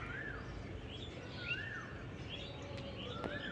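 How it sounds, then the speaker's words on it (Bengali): An Asian koel sings on a green morning, its faint rising whistled calls repeating a few times from a distance over a steady outdoor hum. "এদিকে শুনো মিষ্টি কোকিলের সুর"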